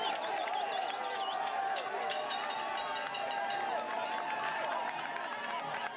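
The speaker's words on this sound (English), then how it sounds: "And they're cheering, chanting," Cycling fans at the UCI men's world championship road race in Rwanda keep up a steady roar of cheering and rhythmic chanting for Pogacar, with a commentator's voice talking over the crowd.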